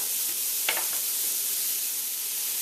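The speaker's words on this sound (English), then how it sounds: "what I'm going to do now is toss in the onion. Give that a quick stir." Chopped onion hitting a hot pan for chicken fried rice, a steady bright sizzle with a brief scrape of stirring near the start, close and fairly quiet.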